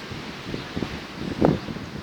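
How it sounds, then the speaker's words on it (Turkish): Gusty wind rustling through tree leaves, soft and fairly distant, with a stronger swell of rustling midway and no talking. "Bayağı bir rüzgar var arkadaşlar."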